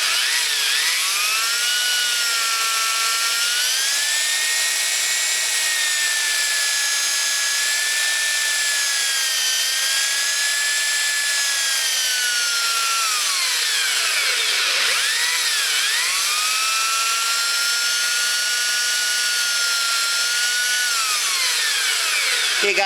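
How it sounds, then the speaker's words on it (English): A copper ring is pressed against a spinning polishing machine, giving a steady high-pitched whine and hiss that dips and rises in pitch as the ring is worked, continuous and close throughout. "So I'm going to work on it a bit more just by polishing it on the polisher there."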